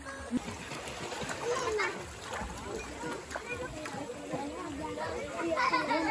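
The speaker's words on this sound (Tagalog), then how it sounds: "Splash!" Children splashing in water outdoors, irregular splashes and sloshing amid lively shouts and chatter from kids and adults nearby.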